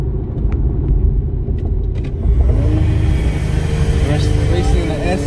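A Lexus IS-F accelerating hard while racing an Audi S3, a loud, close engine rumble rising steadily throughout, with wind and road noise building as it speeds up.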